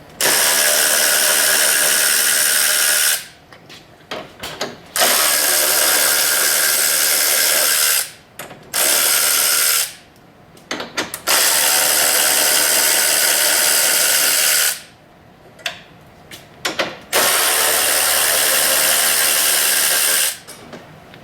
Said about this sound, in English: Now we're going to remove the 4 bolts on top.